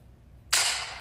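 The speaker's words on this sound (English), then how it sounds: "was that a gunshot?" A sudden sharp gunshot-like bang from a sound effect bursts in after a quiet stretch and rings out loudly, followed by a second smaller hit at the very end.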